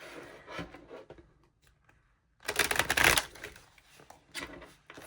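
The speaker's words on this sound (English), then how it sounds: "one more shuffle for those fire signs" A new Field Tarot card deck being shuffled, with soft rustles and riffles before a louder, dense burst of card flutter about midway, then quieter rubbing, close and alone.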